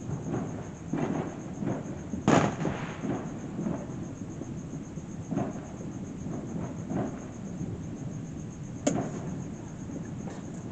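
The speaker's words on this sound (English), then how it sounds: "I can see fireworks in the distance." Distant Fourth of July fireworks thump and boom at irregular intervals, a few sharper reports standing out against a steady background hiss of an evening outdoors.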